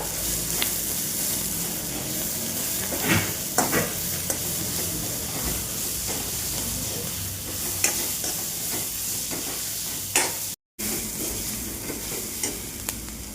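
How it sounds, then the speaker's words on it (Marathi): Asafoetida sizzling as it sautés in a hot pan, a quiet, steady frying hiss with occasional sharper stirring clicks and scrapes, close up and without speech. "हिंग आता हे परतून घ्यायचं चांगलं"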